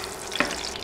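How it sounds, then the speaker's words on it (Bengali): Dried chilies, cinnamon sticks and bay leaves fry in hot oil over medium heat, a brief, steady crackling sizzle with one small stirring clink. "নেড়ে 20-30 সেকেন্ডের মতো এগুলো ভেজে নিব।"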